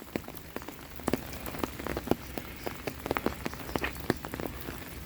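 Rain falling on a farmland hiking trail at Bowling Springs along the Appalachian Trail, a steady patter with dense, irregular close drops striking surfaces throughout.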